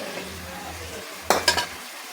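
Chicken cooking in oil in a pot for a chicken, potato and spinach curry: a steady low sizzle runs underneath, broken by a few quick clinks of a utensil against the pot near the middle.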